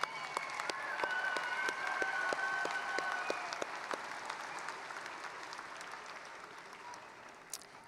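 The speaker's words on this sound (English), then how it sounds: "let's give you a round of applause too." Applause from a college commencement audience, a steady spread of many clapping hands at moderate distance that holds for several seconds and slowly thins toward the end.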